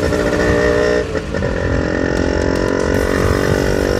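A 1988 Yamaha RX100 two-stroke motorcycle is heard being ridden, its buzzy engine droning loud and close with a brief dip in revs near the start, then holding steady.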